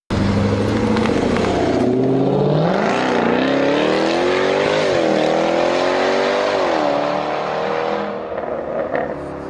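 A fast Jaguar car engine revs hard and accelerates, loud and close, with its pitch climbing through several gear changes over a continuous raw roar.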